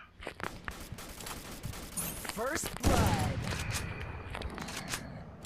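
Gunfire in the Free Fire battle royale shooter, a quick scatter of faint shots followed by a louder burst and continuing rattle, with someone talking over the action.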